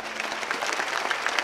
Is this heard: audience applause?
yes